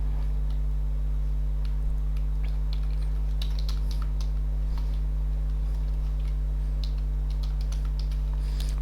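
Computer keyboard keys clatter in irregular bursts while Python code is typed, moderately close over a steady electrical hum, with no talking.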